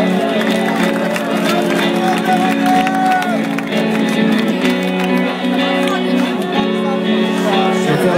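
Applause and cheering from a live rock concert crowd at Park Rishon LeZion, loud and continuous throughout, mixed with sustained band music and amplified sound.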